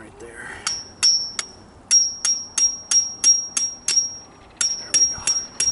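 A hammer drives a metal beaver trap stake among roots in water, sounding about a dozen sharp, ringing metallic strikes, close and loud, in a steady rhythm with a brief pause partway.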